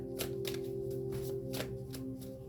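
Tarot cards are pulled and shuffled from a deck in a series of soft, quick papery flicks, close and quiet, repeating every half second or so.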